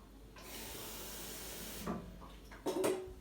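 A glass of water being added to a pot of Moroccan harira soup, heard as a steady close pour or running-water hiss that breaks off, followed by a couple of brief splashes and clinks.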